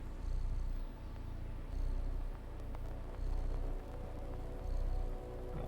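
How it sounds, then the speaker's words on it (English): In the video game Stray, a sleeping cat purrs softly and continuously, the low rumble pulsing in even cycles about once a second, close and alone. "Oh, listen to that purr."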